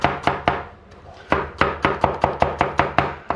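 Kitchen knife chopping onions into thin half rings on a board while cooking onion soup at a camper, a steady run of about a dozen sharp, close cuts in quick rhythm.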